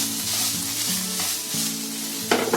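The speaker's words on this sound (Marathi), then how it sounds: "चिकन आपलं चरचरायला लागलंय म्हणजे शिजलाय." Boneless chicken sizzles and fries in a pan with a steady, close crackling hiss that runs throughout, without any talking.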